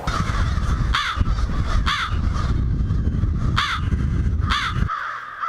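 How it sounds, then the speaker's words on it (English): Crows caw loudly and close by, with about five harsh calls spaced roughly a second apart over steady background rumble. "Everybody knows the caw, caw, caw of the crow, but there's lots of different vocalizations that they'll use as well."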